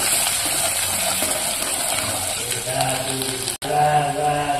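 Chopped onions fry in a pan for a radish sambar, giving a steady close sizzle that runs throughout, with brief clatter near the end from stirring.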